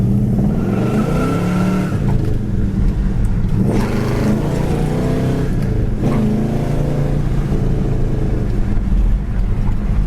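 A red 1964 Pontiac GTO with a 4-speed manual pulls hard down the road, its engine a loud, steady roar that rises and falls through gear changes across the whole stretch, with no talking.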